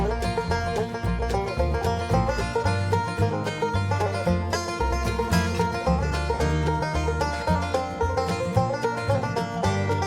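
A full, busy bluegrass band intro with a steady driving rhythm and a bright banjo kick picking over bass and drums, continuous and loud throughout.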